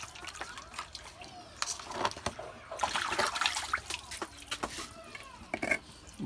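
Water sloshing and splashing in irregular bursts as a small child is bathed, fairly quiet and close, with scattered voices speaking over the splashes.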